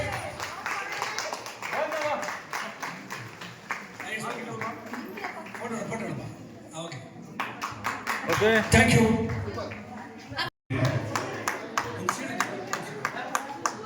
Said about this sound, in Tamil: Give it a big applause.